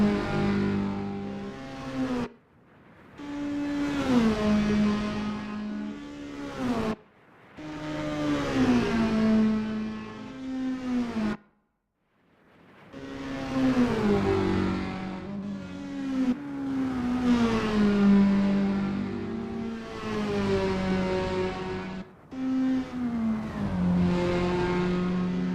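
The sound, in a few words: Toyota S-FR race cars revving at Lime Rock, Assetto Corsa video game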